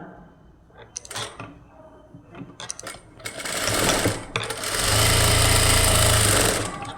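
An electric sewing machine stitches a blouse, starting with a few short clattering bursts, then settling into a long, loud, steady run of rapid needle chatter close by.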